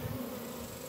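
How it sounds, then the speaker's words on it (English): A swarm of bees hums and buzzes inside a bucket, a steady close drone in a very short burst. "We got a bucket of bees right here."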